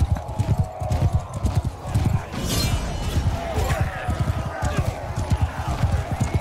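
Horse hooves gallop in rapid, rhythmic clip-clops amid a chaotic battle in Mount & Blade II: Bannerlord, loud and close with a neigh and crashing impacts, while a voice talks over it.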